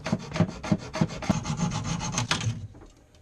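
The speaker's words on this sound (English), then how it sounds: "So we finally decided to cut through our hose." A boat hose is cut through by hand with close, rhythmic rasping strokes, about nine in quick succession, before stopping abruptly; no voices.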